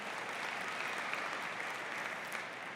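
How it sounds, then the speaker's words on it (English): Graduation audience applauding at a high school ceremony, a dense steady wash of many hands clapping throughout, loud and sustained with no voices standing out. "we want to give him a round of applause."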